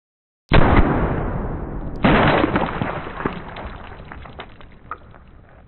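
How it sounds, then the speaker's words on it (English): A shotgun slug fires into a ballistic dummy head with a sudden loud, close blast. A second sharp burst follows about one and a half seconds later, then a long rumbling decay fades out. "that might be the most dramatic shotgun load we've ever shot at a ballistic dummy head"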